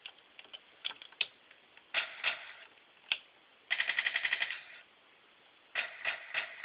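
A 2004 GI Joe Defense Mech toy plays electronic machine-gun bursts, short rapid clicky rattles in several groups, including one sustained run mid-clip, thin and tinny, close by with no talk.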